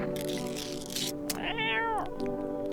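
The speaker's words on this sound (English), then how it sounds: "Pet the cat too." A cat in the game No, I'm Not a Human gives a loud, drawn-out meow while being petted, rising then falling over about half a second against a humming background.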